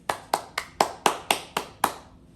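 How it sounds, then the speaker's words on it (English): Eight crisp, evenly spaced hand claps at a commencement gathering in honor of mothers, close and clear with a steady beat before stopping. "please join me in clapping for all mothers and mother figures"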